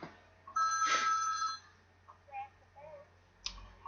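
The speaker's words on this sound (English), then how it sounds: "and the phone is ringing." A telephone rings in a home during a poker game session: a loud warbling electronic ring of about one second, followed by softer faint beeps and a brief second chirp near the end.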